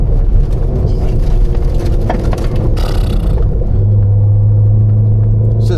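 Cammed Corvette C6 Z06 driving over gravel on a damp, cold road: loud continuous rumble and crunching roar with wind buffeting, a burst of gritty spray near the middle, then a steady droning engine tone.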